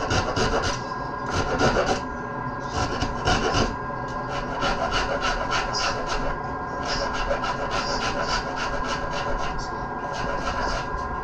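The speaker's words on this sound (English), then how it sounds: "I'll just do this bit here while I've got the rasp in my hand" A hand rasp shapes a piece of wood. It makes repeated rough rasping strokes in a steady back-and-forth rhythm, loud and close, continuing for several seconds with brief pauses between groups of strokes.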